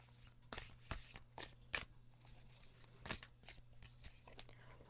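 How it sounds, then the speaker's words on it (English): Tarot cards being shuffled by hand up close, soft papery slides and flicks in uneven bursts, quiet with a faint steady hum behind. "I'm just going to shuffle from here."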